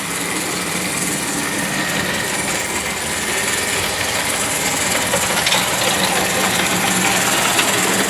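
Märklin model trains run on a home signalling layout, giving a steady, continuous whirring and rolling hum with a bright, hissy high end, close and unbroken throughout.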